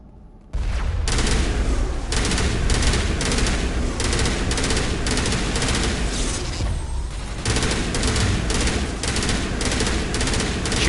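Sustained automatic gunfire during a Mass Effect battle against Geth: a loud, continuous rattling fusillade with dull booms mixed in starts abruptly after a short quiet moment, keeps going almost without pause and dips only briefly near the middle.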